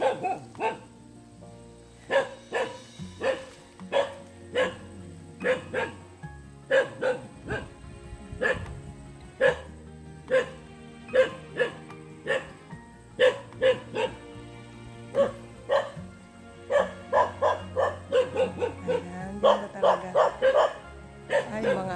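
Dogs bark repeatedly nearby in sharp, irregular bursts that grow more rapid toward the end, with a person's voice occasionally between barks.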